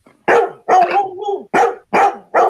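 Dogs barking in a run of five loud, close, sharp barks at a steady pace, with one longer drawn-out bark-howl near the start and no talking.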